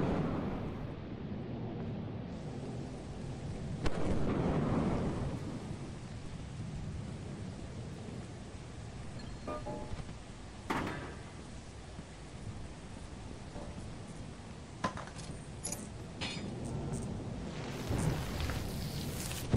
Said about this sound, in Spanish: ¡Me caerá un trueno!